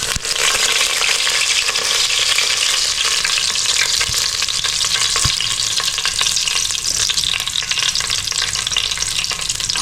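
Curry leaves frying in hot oil with mustard seeds, a loud, dense and steady sizzle with crackling spatters up close, no voices over it.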